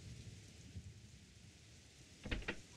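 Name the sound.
rain in the video game Suikoden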